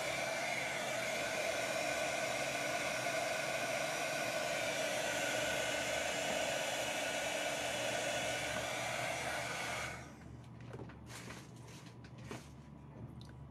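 A hair dryer blows with a loud, steady whoosh for about ten seconds, drying glue on a decorated glass plate, then shuts off, leaving a quiet room with faint knocks.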